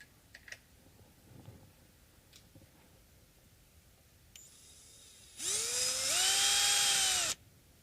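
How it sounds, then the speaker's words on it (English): A small electric screwdriver spins a screw out of Gibson Les Paul hardware, a few faint clicks giving way to a sharp whirring burst about two seconds long that rises in pitch and stops abruptly. "Let's remove one of the screws and we'll see."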